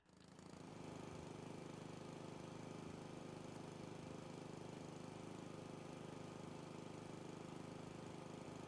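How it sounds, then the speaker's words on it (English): Lawn mower in the video game House Flipper 2, a steady droning engine that starts within the first second and holds an even, continuous mowing hum throughout, with no talking. "I think I have to mow the lawn."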